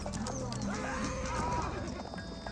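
Mounted horsemen in Age of Empires 4 gallop with rapid clip-clopping hooves and a whinny, under steady commentary.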